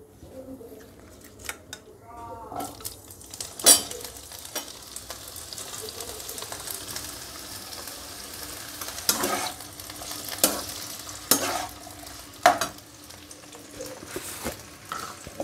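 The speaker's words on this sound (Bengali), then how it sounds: "এবার পেঁয়াজ কলিটা একটু ভেজে নেব।" Onion stalks fry in a pan with a faint, steady sizzle, broken by occasional stirring scrapes and clinks. A few louder knocks stand out from the quiet background.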